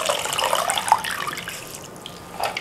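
Cut potatoes for fries being washed in water: a steady splashing and sloshing wash with scattered small plops and drips, close by, without voices.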